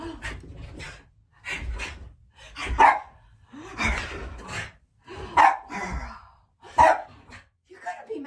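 A dog barks and pants indoors in short, spaced bursts of about six or seven barks, fairly quiet and close, mixed with soft huffing breaths and a person talking affectionately nearby.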